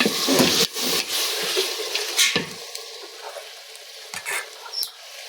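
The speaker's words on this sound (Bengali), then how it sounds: "এখানে আবার এটা কষানো হয়ে যাচ্ছে।" Potatoes sautéing in a pan on a stove give a soft sizzle, broken by a few sharp scraping stirs of the spoon against the pan, close and fairly quiet.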